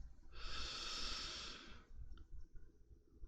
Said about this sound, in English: Slowly in through your nose